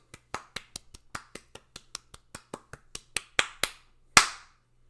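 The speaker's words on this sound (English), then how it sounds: "Give yourselves a round of applause." Roughly twenty close, crisp hand claps from one person fall in a steady rhythm, growing louder toward the end with a final strong clap.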